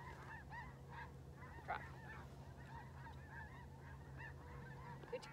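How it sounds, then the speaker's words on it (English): Snow geese honk repeatedly as a flock flies over a field, a steady chorus of distant calls with a low hum beneath and a brief spoken word. "There's a lot of snow geese flying over."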